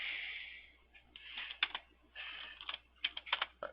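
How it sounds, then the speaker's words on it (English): Someone types on a computer keyboard in short, quick clusters of light, close keystrokes with brief pauses between them, and no voices over the tapping. "You type in FCK Editor and click Search."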